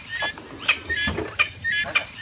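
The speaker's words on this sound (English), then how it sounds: "The name Dik Dik comes from a call that the females make when they're alarmed." A female dik-dik's alarm call: a series of short, high, squeaky whistling chirps, about five bursts spread over two seconds, close and fairly loud with no talking.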